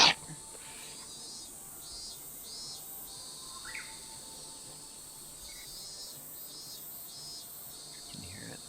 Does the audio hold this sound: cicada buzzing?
yes